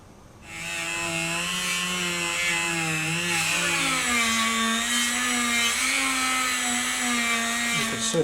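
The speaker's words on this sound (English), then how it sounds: "You can see the beautiful shine that you get when you buff it with the Dremel and some compound." Dremel rotary tool buffing a Stratocaster guitar's fretboard with polishing compound, a steady high whine with shifting pitch as the load changes, close and alone, running continuously after a quick spin-up.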